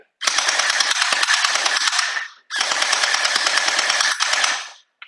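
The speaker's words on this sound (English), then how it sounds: "let's shoot it. You can hear it sounds a little different since it doesn't blow back" A JinMing X2 Glock-style gel ball blaster fires without blowback in two long, loud full-auto bursts of rapid, even buzzing shots, each burst about two seconds long and separated by a short gap.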